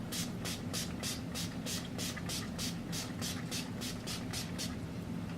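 An Urban Decay Quick Fix primer setting spray containing coconut water is pumped again and again, a quick, even series of short, soft misting hisses over faint background noise.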